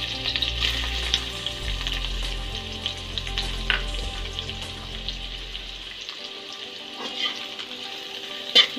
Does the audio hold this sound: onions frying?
yes